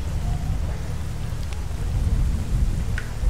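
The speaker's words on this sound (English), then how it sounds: "What a thunderstorm here." Steady rain with low rumbling thunder in a thunderstorm in the S.T.A.L.K.E.R. video game, a dense continuous wash of rainfall under deep rolling rumble, with a few faint higher ticks, no talking.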